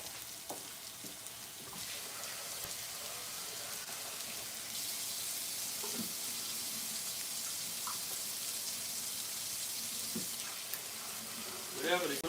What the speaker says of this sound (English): I'm going to rinse my noodles really quick.